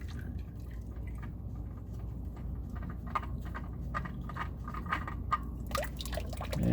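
Old engine oil from a 1.8 L 2019 Toyota Corolla drains from the open drain plug in a steady liquid trickle with light drips, continuous and close over a low background rumble.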